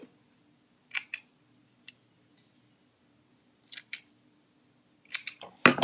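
Fabric scissors trimming excess zipper tape flush with the edge of sewn fabric, giving a few sharp, separate snips with pauses between them and a louder handling clatter at the end.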